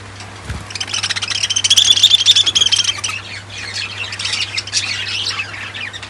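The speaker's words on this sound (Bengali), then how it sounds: "দেখছেন আমার কত পাখিরা ডাকাডাকি করতেছে।" Pet birds kept indoors squawk loudly in a harsh, overlapping burst that peaks midway, then carry on in shrill calls at a lower level.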